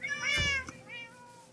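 Cats in the Minecraft video game meow: one drawn-out, wavering meow, then a softer, shorter one trailing after it, heard clearly with no speech over them.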